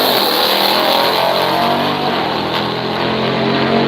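Drag racing truck powering down the strip at a muscle car event, a loud, steady engine roar with harmonic whine that holds for several seconds, close and continuous, no talk.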